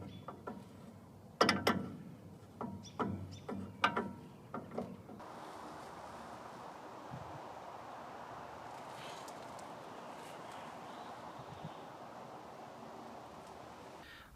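A wrench tightens steering parts on a 1977 Chevrolet truck: a quick run of sharp metallic ratcheting clicks up close, then a steady dull mechanical hum for the rest.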